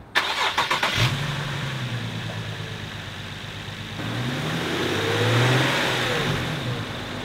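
Car engine cranking with rapid clicks, catching and revving briefly, then settling into a smooth steady idle after a repair of intake clamps, close and clear with no talk.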